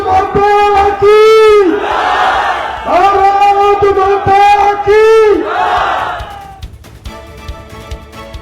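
A rally crowd chants Jai Shri Ram slogans in loud, ringing unison, with voices rising and falling in repeated waves before fading into scattered crowd noise.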